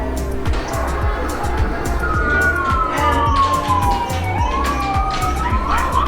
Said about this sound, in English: why you've been hearing sirens, it's because there's an ambulance on display here